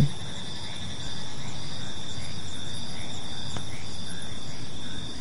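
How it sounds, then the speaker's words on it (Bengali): Steady, shrill cricket chirping fills the air, a dense insect chorus with no voices, holding evenly throughout. "ব্যাঙের ডাক আর ঝিঝি পোকার আওয়াজ ভেসে আসছে"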